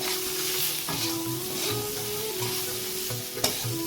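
Pointed gourd and potato pieces sizzle in hot oil in a home kitchen pan, a steady crackling hiss broken by occasional scraping stir strokes, with no talking.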